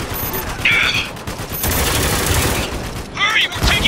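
Heavy gunfire erupts in the shooter game Spec Ops: The Line, with bursts of automatic fire and sharp metallic shots layered over a dense battle din, loud and close throughout.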